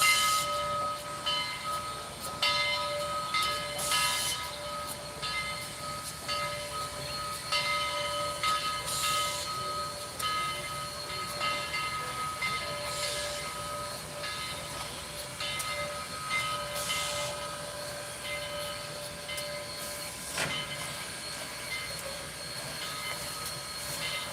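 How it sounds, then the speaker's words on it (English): A steam train pulls a caboose back toward the Summerville, Georgia turntable, giving a continuous hiss and rumble with recurring bursts of steam and a steady mechanical tone throughout. "Yeah, we are pulling the caboose back now."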